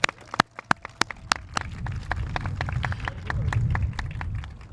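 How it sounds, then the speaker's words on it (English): A round of applause for a County Board of Supervisors at an outdoor mental healthcare facility groundbreaking, opening with a few sharp, separate claps that build into a steady crowd clapping over low wind or background rumble. "Let's give them a round of applause."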